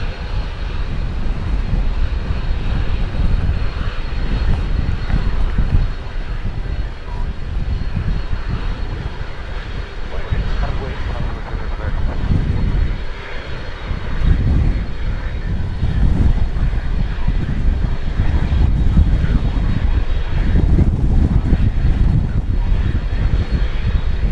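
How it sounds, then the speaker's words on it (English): Qantas Boeing 787 Dreamliner departing DFW Airport on a flight to Sydney, a loud, steady jet engine roar with low rumble and wind buffeting that swells slightly toward the end, heard alone without talk. "we've got the Qantas flight going out to Sydney. Dreamliner."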